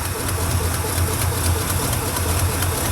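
An engine running steadily with a low, even rumble and a faint rhythmic pulsing, close by and fairly loud, with no talk over it.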